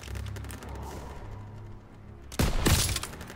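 Gunfire in the Call of Duty WWII video game erupts as a sharp, loud burst of shots near the end, after quieter battlefield rumble.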